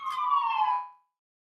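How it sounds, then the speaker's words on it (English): An ambulance siren passes by in a brief wailing tone. It drops slightly in pitch and fades to silence within about a second. "The ambulance finna come past."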